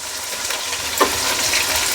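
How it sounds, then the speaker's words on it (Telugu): Carrots tipped into a large pot of vegetable sambar, a brief close sizzle and stir with a small splash midway over a constant frying hiss. "క్యారెట్ వేసేస్తున్నాను చూడండి"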